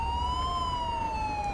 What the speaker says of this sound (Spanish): El problema de esto es que no apagan la sirena y me pone de los nervios.